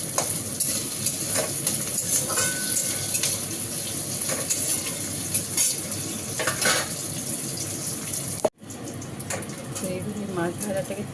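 Spices are stirred and fried in oil in a kadai, giving a continuous sizzle with occasional spoon scrapes and clinks, cut by a brief clatter and sharp dip before the frying resumes.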